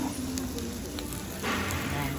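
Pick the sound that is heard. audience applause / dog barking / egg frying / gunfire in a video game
egg frying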